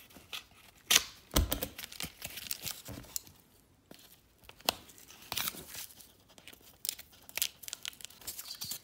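Cardboard packaging around a set of Spanish base set booster packs being cut along its sides, giving a close series of scraping, tearing and crinkling bursts with sharp snips, alone and without talk.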